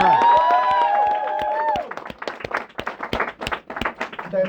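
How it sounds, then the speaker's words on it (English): Audience at a live poetry show in Cafe Kerouac on the Ohio State campus clapping and cheering, whoops and voices at first, then sparse, uneven claps that trail off. "let's give the clap for Rob, our resident capitalist right there"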